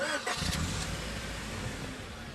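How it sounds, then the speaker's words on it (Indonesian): A car engine turning over in a zombie-apocalypse film scene, a short cranking burst that catches and settles into a steady idle rumble, heard fairly close with no talk. "Saat menghidupkan mobil"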